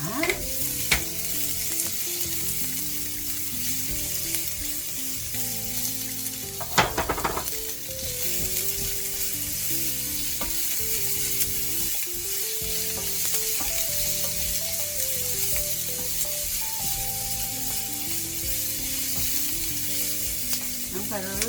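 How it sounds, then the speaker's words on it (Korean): Onions fry in a pan, a long continuous sizzle with repeated stirring scrapes and knocks from the utensil running throughout, and no talking. "저는 양파를 먼저 볶습니다"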